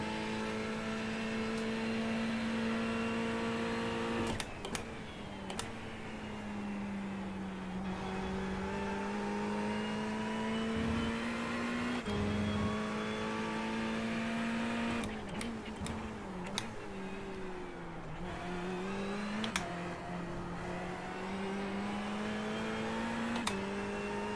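A Ferrari GT3 race car in the iRacing game drives through esses, its engine a continuous droning whine that rises and dips with throttle, punctuated by occasional brief clicks and shift blips.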